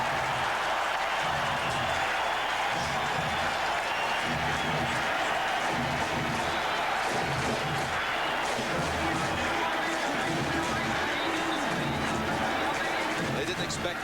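A stadium crowd at a 1991 Minnesota at New England football game roars in a loud, sustained wash of cheering and noise after a fumble recovered for a touchdown, with a broadcaster talking over it.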